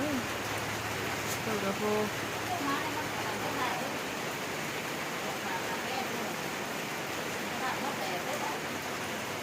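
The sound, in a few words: heavy rain in the forest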